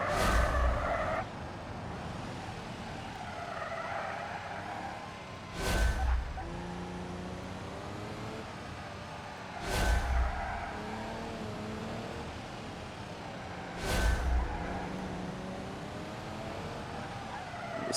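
Car tires sliding and skidding in BeamNG, heavily loaded vehicle, with a steady engine drone underneath and three short, louder bursts of tire scrub spaced a few seconds apart.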